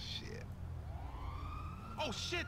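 Police siren in a video game, a rising and falling wail that swells as it approaches, with background game noise and voices chattering in the scene.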